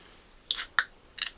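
Close mouth chewing of bacon-wrapped scallops, three short crunchy bites in quick succession over a quiet background.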